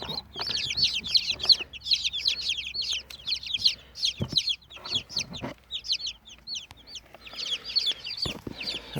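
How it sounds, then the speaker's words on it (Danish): Newly hatched chicks in an incubator, gathered under a heat plate, peep in rapid high-pitched chirps that go on without a break, close by and fairly faint, with a few soft knocks and handling noises between them. "Så har vi alle kyllingerne her."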